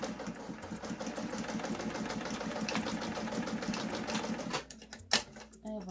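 A home sewing machine runs in a steady rapid stitching rhythm on a reusable fabric face mask, close and moderately loud, stopping near the end with a couple of clicks.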